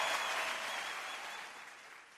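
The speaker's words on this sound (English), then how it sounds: "I actually just want to give a huge round of applause to Des for running" Applause for Des at a community planning meeting: dense clapping from an audience, fairly quiet and steady, slowly fading over about two seconds with no talk.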